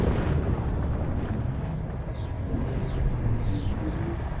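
A spaceship's hyperspace jump in Elite Dangerous, a loud sustained rumbling roar with faint whooshing sweeps riding over it throughout.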